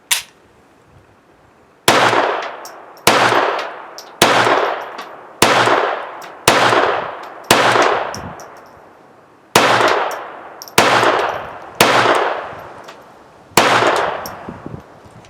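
A Taurus TX22 .22 pistol fires about eleven sharp, ringing shots at irregular intervals, each close and loud with a short metallic decay, with a brief pause between some rounds.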